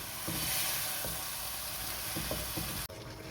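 Mutton trotters and head sizzling in a pan with ginger and garlic, a steady close frying hiss with occasional stirring knocks before the sound cuts down sharply near the end.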